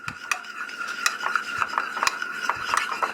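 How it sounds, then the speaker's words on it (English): A utensil stirs egg yolks into hot chocolate liquid for homemade chocolate pudding, making rapid irregular clinks and scrapes against the bowl, close and crisp, with no talking. "Stir that up really good"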